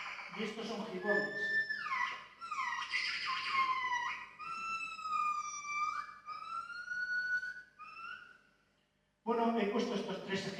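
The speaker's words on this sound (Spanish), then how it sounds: "Y estos son gibones." A recording of gibbons calling: a series of rising, whooping notes that climb into long, sweeping cries, with brief talking at the start and end.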